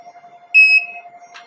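A single short electronic buzzer beep from a microcontroller colour sensor and counter, a clear steady tone of about a quarter second over a constant low hum, followed by a faint click.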